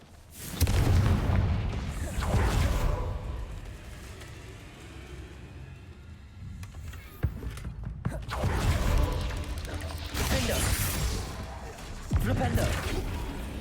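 Booming Confringo fire-spell blasts from Hogwarts Legacy go off in loud bursts, several in succession amid rumbling combat noise, with a character's voice heard in between.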